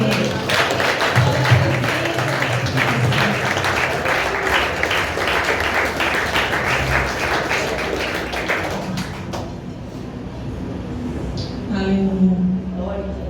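A church congregation claps together in a steady, dense round of applause during a celebration service, then the clapping gives way to a voice speaking.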